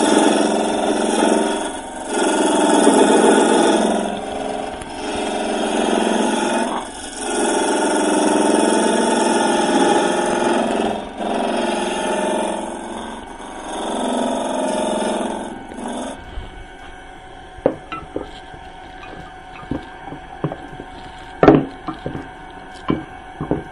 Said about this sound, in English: take our intermediate gouge and we're going to take some material out here